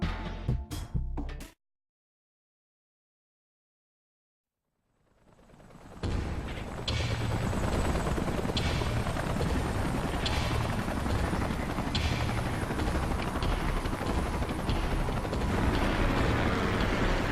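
Salvage helicopters arriving in the video game Xenoblade Chronicles X: after a brief burst of game sound and a silent gap, a loud, sustained rotor roar and mechanical drone swell in and hold steady to the end.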